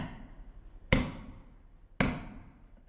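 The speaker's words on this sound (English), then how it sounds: "using the old pitching chisel, we're going to break away that piece of stone" Two loud, ringing metallic strikes of a hammer on a pitching chisel breaking away Victorian sandstone, evenly spaced about a second apart, each decaying into a short resonant tail.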